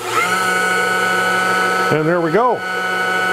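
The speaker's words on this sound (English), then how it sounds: "I'm going to turn the switch on the router here" A CNC router spindle on an Anolex 3020, set to 10,000 RPM, whines steadily at a high constant pitch, then briefly wavers as a voice speaks over it before settling back to the same tone.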